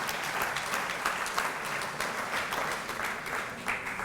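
Steady, dense audience applause fills an opening ceremony hall in St. Kitts and Nevis. Many hands clap evenly and loudly throughout, with no voices breaking through.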